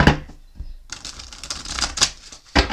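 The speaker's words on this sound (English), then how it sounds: "Let me give him another shuffle." Tarot cards are shuffled in quick riffling bursts, a brief flurry at the start, then a longer dense rustle and a final short riffle, heard close up.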